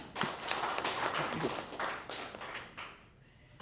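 A crowd at a community debate forum in Budaka district claps for the broadcaster, a dense burst of applause that tapers off over a few seconds.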